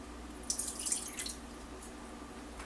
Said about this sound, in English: I'm just gonna add some coconut water